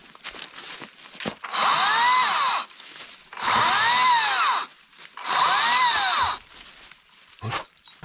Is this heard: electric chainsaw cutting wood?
yes